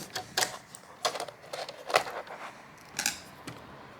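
A few small plastic clicks and taps, close and fairly faint, as a latch on a Dell Vostro laptop display is snapped into place, spaced irregularly with quiet gaps between.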